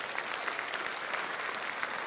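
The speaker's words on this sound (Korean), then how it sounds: "우리 박수 한번 하겠습니다." A church congregation applauds together to welcome newly registered members, a steady dense wash of clapping that holds evenly for about two seconds with no voices on top.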